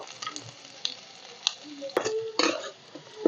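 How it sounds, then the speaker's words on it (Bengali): Chopped onions frying in mustard oil, a quiet, soft sizzle broken by small pops and brief scraping clinks of stirring, close by, with no talking. "দিয়ে দিচ্ছি আবার আমি সর্ষের তেল, দিয়ে দিচ্ছি পেঁয়াজ কুচি"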